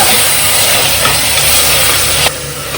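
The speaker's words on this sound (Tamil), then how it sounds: "தக்காளி வந்து வதங்கிட்டு இருக்குது" Tomatoes sizzle as they sauté in a pan for a country chicken curry (naatu kozhi kuzhambu), giving a loud, steady, close hiss that holds throughout, with no voices.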